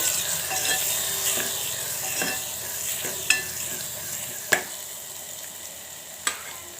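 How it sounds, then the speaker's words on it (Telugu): Tomatoes with turmeric and chili powder being stirred in a pan, a soft continuous sizzle carrying under the stirring. Three sharp, louder utensil scrapes or knocks land late in the clip. No one speaks. "ఇప్పుడు కారం కూడా వేసేసుకుందాం ఇప్పుడు ఒకసారి కలిపేసుకోవాలి"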